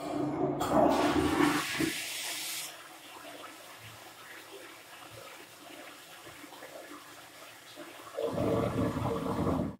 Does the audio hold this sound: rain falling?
no